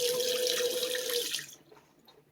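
Cold tap water runs steadily through an EverPure filter into a sink, a continuous close hiss and splash that cuts off after about a second and a half, leaving faint drips and quiet.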